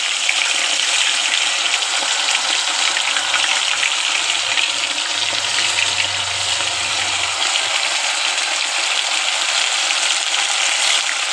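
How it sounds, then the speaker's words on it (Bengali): Pieces of fish fried in hot oil give a steady, loud, dense sizzle that runs without a break, with no voices over it. "এবার এই মাছগুলোকে একটা একটা করে ছাড়বো, যাতে জোড়া না লেগে যায়"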